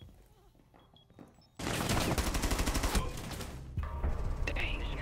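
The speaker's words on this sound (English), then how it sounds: "I was getting shot at from 37 directions" Dense, loud bursts of automatic gunfire from the Rainbow Six Siege video game, a sustained fusillade of rapid shots filling most of the clip.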